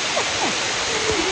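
Heavy, dense rushing of a rain downpour on a llama trek in the Great Smoky Mountains, a steady broadband roar, with faint voices murmuring briefly underneath.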